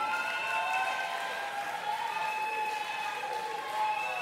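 An audience applauds steadily in a large room at a televised talent show, a continuous patter of clapping heard from some distance, with a faint tonal hum beneath it.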